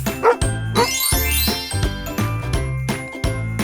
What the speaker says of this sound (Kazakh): Ит гав. Гав дейді.